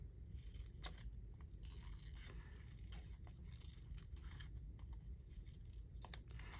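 Scissors snip through paper during journal crafting, giving a string of irregular crisp cuts and scrapes at close range over quiet background noise.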